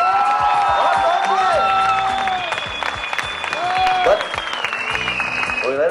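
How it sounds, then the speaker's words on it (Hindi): A studio audience on a televised singing-contest stage claps and cheers steadily for a celebrity guest, the applause sustained under overlapping music tones and brief voices. "जरा ताली हो जाए शाहरुख भाई के लिए"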